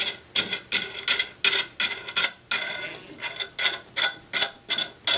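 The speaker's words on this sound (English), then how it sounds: "So I have to bring this nut all the way down the darn stab" A metal nut is turned down a long threaded rod, giving a series of short, evenly spaced scraping clicks and ratchet-like rasps that repeat steadily and close by, with no talking.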